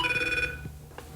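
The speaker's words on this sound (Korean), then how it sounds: "무거운 장막을 깨뜨린 한 통의 전화." Telephone ringing in a tense household: a clear electronic ring burst, then a pause and a short second ring starting, moderately loud with no talk over it.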